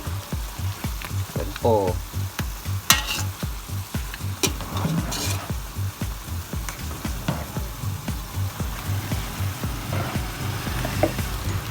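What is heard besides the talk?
stirring and frying pork feet and head with green chili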